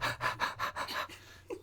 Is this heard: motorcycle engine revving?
no